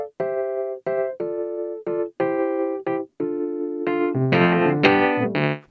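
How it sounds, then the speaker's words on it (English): Velvet electric piano virtual instrument from the AIR Instrument Expansion Pack plays a short phrase of bell-like, mellow sustained notes and chords, cleanly separated at first, then building to fuller overlapping chords, solo with no voices. "This features 5 electric piano sounds,"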